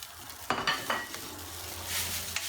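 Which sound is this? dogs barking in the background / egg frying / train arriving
egg frying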